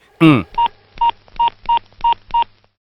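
A short voiced sound opens, then six evenly spaced electronic keypad tones beep in steady rhythm, clear and close, like a phone number being dialed.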